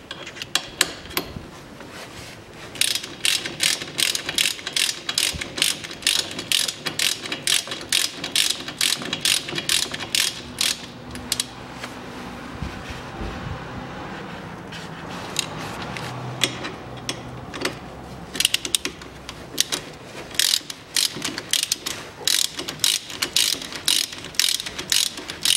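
Ratchet clicking in fast bursts while tightening a bolt on the front brake caliper of a 2001 Daewoo Nexia 1.5, close and loud, with short pauses between runs of sharp ticks.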